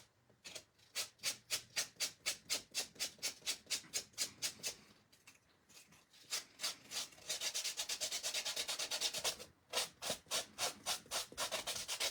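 Sandpaper rubbing across a mixed media luggage tag in quick, rhythmic back-and-forth strokes, close and steady with brief pauses between bursts, no talking.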